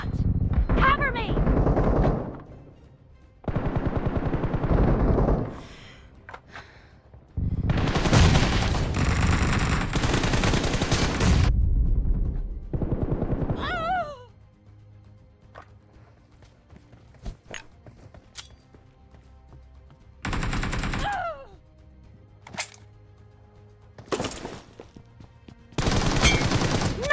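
Bursts of gunfire from a team deathmatch video game, loud rapid volleys in several separate clusters with quieter gaps between, plus shorter scattered shots and clatter.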